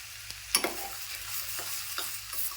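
Tomato fries with onions in oil for a masala idli chutney base, a soft steady sizzle broken by a few light stirring clinks and scrapes close by.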